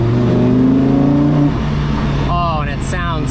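A loud Audi R8 LMS GT2 race car engine roars and revs at close range on the street, pitch climbing and dropping, with a voice talking over it.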